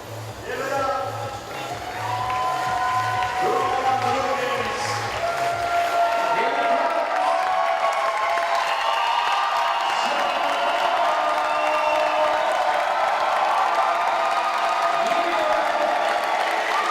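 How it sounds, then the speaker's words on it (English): Crowd at a climbing World Cup bouldering semi-final in Toronto cheers and whoops loudly, with clapping and a commentator's voice over the noise that swells and holds. "there's a big cheer here, and probably a good enough reason."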